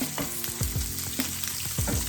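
Oil sizzles and crackles steadily in a pan as prawn toast pan-fries, close by, with soft scraping and knocking as the pan is swirled.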